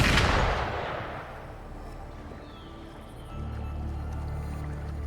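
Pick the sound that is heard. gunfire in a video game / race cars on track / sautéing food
gunfire in a video game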